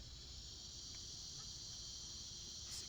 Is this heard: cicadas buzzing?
yes